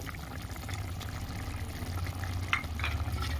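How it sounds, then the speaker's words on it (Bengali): Fish curry gravy with potatoes simmers in a pot for a Bangladeshi mourala fish dish, giving a quiet, steady low bubbling with a few faint liquid pops. "ঝোলটা ভালো মতন ফুটে উঠেছে"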